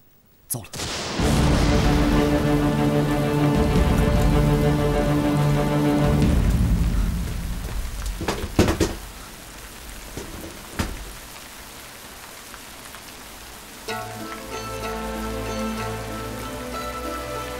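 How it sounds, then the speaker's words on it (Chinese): Heavy rain pours down steadily for several seconds, with sharp thunder-like cracks breaking through as the downpour thins, then patter resumes at a lower level. "下雨了。"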